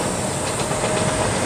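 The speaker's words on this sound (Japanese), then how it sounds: "ああ、電車です。" A six-car Karatsu Line train passing near the Niji no Matsubara pine grove by Hamasaki beach in Saga, a steady close rumble and hiss of rolling wheels heard alone.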